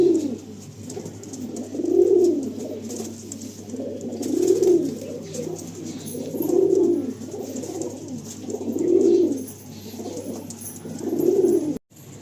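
High-flying Andhra pigeons coo in five evenly spaced, rolling bouts about two seconds apart, close and clear over a low steady background hum, with no voices.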